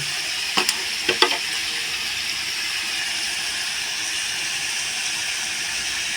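Yam and potatoes with turmeric fry in a pan, giving a steady broadband sizzle. Two or three short stirring scrapes come early, then the sizzle goes on evenly with no one talking.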